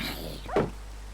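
A single sharp bark from a tamed dog in Minecraft, one short clear yelp mid-clip over a low steady background hum.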